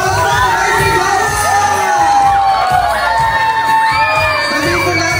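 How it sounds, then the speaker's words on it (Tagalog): Guests at a 70th birthday celebration cheer and shout excitedly, a loud crowd of overlapping whoops and high rising yells, children's voices among them, continuous for about five seconds. "Palakpakan may sigawan!"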